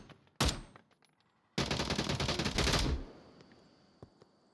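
Gunfire in the VR shooter Onward during a tournament match: a single sharp shot, then a dense rapid automatic burst lasting over a second, followed by a few scattered fainter shots.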